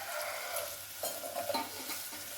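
Ginger garlic paste frying in a pan for mushroom masala, a steady close sizzle with scraping stir strokes and light clinks throughout, no voices.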